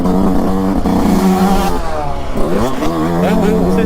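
A 2022 Yamaha YZ two-stroke motocross bike, a YZ 125 or YZ 250, revs hard and close on an Italian test ride, its engine pitch rising and falling in loud continuous bursts.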